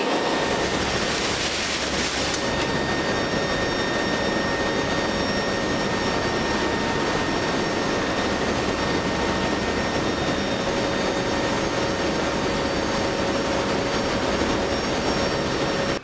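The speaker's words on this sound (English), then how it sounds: "We ended up getting both airplanes off." Military cargo airplanes on the Operation Christmas Drop supply mission over Micronesia give a loud, constant engine roar and drone with a steady whine, close and unbroken throughout, with no talking.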